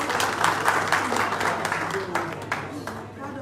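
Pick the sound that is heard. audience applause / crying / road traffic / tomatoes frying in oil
audience applause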